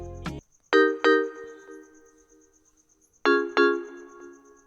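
Two pairs of bright, bell-like synth notes from an FL Studio bell preset struck in quick succession, each ringing out and decaying, with a faint steady ticking underneath.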